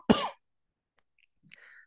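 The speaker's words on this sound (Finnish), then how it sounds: "anteeksi minunkin taholta yskäisy" A single sharp cough bursts out at the start, close and fairly loud, followed by silence and a faint short throat noise near the end.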